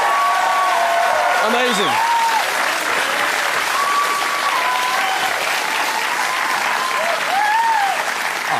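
A studio audience at a comedy talk show applauds steadily, the thick clapping constant throughout, while a host's voice and cheerful exclamations ride over the top.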